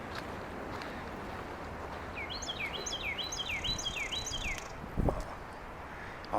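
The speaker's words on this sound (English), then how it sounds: "Birds." A wild bird sings a short run of clear, repeated chirping phrases outdoors in woods near concrete picnic tables, moderately faint over steady outdoor background noise.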